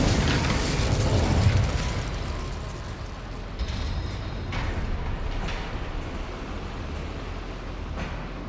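An Incendio fire spell bursts in a goblin mine in Hogwarts Legacy, a loud blast and roar that fades over a couple of seconds into rumbling ambience with scattered soft pops, no talk.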